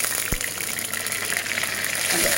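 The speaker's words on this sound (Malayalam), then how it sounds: "ഇത് നമുക്കൊന്ന് വഴറ്റിയെടുക്കാം" Ingredients for a milk prawn curry, including tomato, sauté in a hot pan with a steady, broad sizzle close by, broken by a couple of soft knocks from a utensil.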